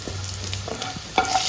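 Browned chicken pieces fry in a wok with a constant close sizzle while a utensil scrapes and stirs them, producing a few sharp clinks.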